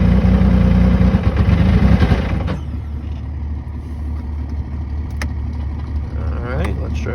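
A 2020 Yamaha YXZ1000r side-by-side fitted with a GYTR turbo kit, engine loud and rough under throttle at first, then settling to a lower, steady run with a few sharp mechanical clicks.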